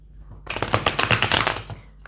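Tarot cards are shuffled and laid out in a quick run of crisp, close riffling and flicking snaps, steady for about a second and a half after a brief quiet start, with no voices.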